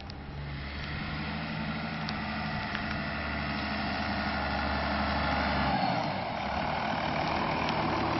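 A Cummins 6BT diesel engine of about 200 horsepower drones steadily as a Land Rover 90 drives, a low rumble with a whining tone, close and continuous with no talking.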